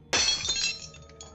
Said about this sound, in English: The frame slipped from his numb hands, and shattered on the floor.